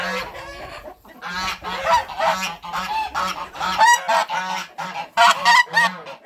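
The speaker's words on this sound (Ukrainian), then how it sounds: "Гуси кричать." Farmyard geese near their nesting hens honk loudly and repeatedly, a close chorus of overlapping nasal calls with brief pauses, some cackling and fowl clucks mixed in.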